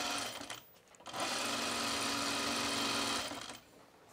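A sewing machine runs steadily for about two seconds, stitching tucks on a fabric top, starting and stopping with a brief pause before the main run. Close, continuous mechanical whir with no talk.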